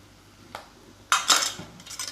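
Bitter gourd sautéing with ground peanut powder in a pan on the stove, a spatula scraping and clinking against the metal in a few close, brisk strokes over a low background hiss, no talking.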